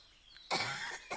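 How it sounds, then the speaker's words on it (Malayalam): One person gives a single harsh cough from a cold, close and fairly quiet, followed by a brief throat-clearing rasp, with no other sound around it. "കുറേ ജലദോഷമൊക്കെ ആയതുകൊണ്ടാണ് രാവിലെ നല്ല ചുമ"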